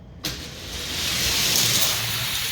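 Hot Wheels die-cast cars, including a Dodge Demon and a Lamborghini, launch down a quarter-mile drag track. After a sudden start comes a steady rolling whir that builds and holds, fairly loud and close.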